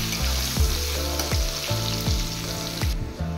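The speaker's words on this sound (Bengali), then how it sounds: "এবার পেঁয়াজগুলো একটু ফ্রাই করে নেব হালকা।" Chopped onions fry lightly in hot oil with whole cumin and bay leaves, giving a loud, steady sizzle broken by a regular run of spatula strokes close by, with no talking.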